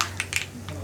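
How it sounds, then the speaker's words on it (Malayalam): Mustard seeds pop in hot sesame oil for a beetroot pickle: a few sharp, crackling pops spaced irregularly over a faint, steady hum. "കടുക് പൊട്ടിക്കൊണ്ടിരിക്കുന്നുണ്ട്."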